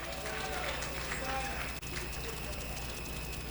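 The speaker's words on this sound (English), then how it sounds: "Please keep clapping, keep clapping" Steady applause from an audience at a budget consultative forum in Epe, Lagos, continuous and even clapping with a brief break in the middle and a voice faintly underneath.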